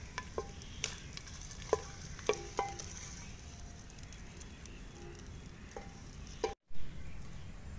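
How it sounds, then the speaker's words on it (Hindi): Chopped onions frying lightly in hot ghee for street-style aloo chole, a soft steady sizzle with occasional stirring clinks, close by and moderately quiet, with a brief dropout near the end. "प्याज डालने के बाद हम इनको हल्का फ्राई कर लेते हैं।"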